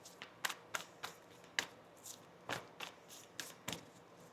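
Tarot cards are shuffled by hand in a quick series of soft, crisp riffling snaps, about a dozen brief bursts close by and fairly quiet, with no talking.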